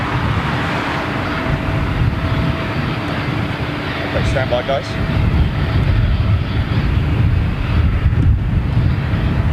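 A Boeing 747 jet on its final flight roars steadily overhead, a loud, continuous broadband rumble mixed with wind buffeting on the microphone, while people talk over it.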